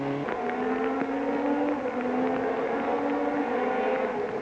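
A Peugeot rally car with a Cosworth engine roars past at close range on a rally stage, a loud sustained mechanical drone with shifting pitch and no voices.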